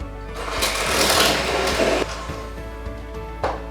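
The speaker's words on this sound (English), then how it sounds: "Now I will be mixing in a separate bowl the powdered sugar and the mascarpone on the lowest level of the mixer." An electric mixer on its lowest setting blends powdered sugar and mascarpone in a bowl, a close mechanical whir that rises and then eases off, with a few clunks and taps of the beaters against the bowl.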